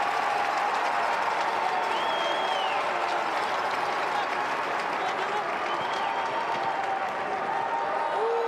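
A home crowd gives a standing ovation at a Syracuse versus Duke NCAA men's lacrosse game, sustained applause and cheering rolling through the stadium while a commentator talks over it and occasional whistles sound.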